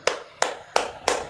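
Four evenly spaced hand claps ring out, close and crisp, with quiet room tone between them.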